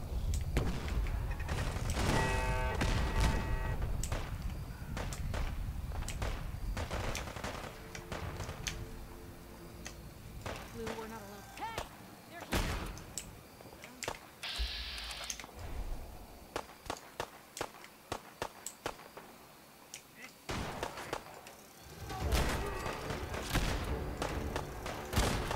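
Gauss rifle shots in the video game Fallout, a series of sharp, irregular ticking bursts and heavy thumps with quiet gaps between, some louder impacts standing out amid game ambience.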